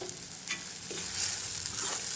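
A thick gravy roasting in a pan for a potato curry, continuous close sizzling with a few soft stirring scrapes over a short stretch.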